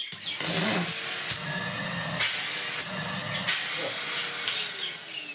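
A Numatic Henry vacuum cleaner runs with a loud, steady whooshing hiss, punctuated by a few brief bumps and clunks.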